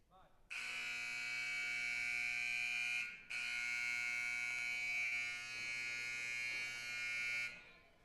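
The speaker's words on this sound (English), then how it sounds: "Now they're just kind of having fun with the buzzer over there." An electronic buzzer in a goalball tournament gym blares loud and steady for a few seconds, cuts out briefly, then sounds again for several more seconds with a harsh buzzing tone.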